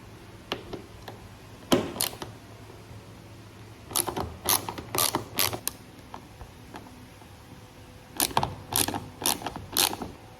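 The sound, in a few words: ratchet removing Torx screws from Tacoma roof rack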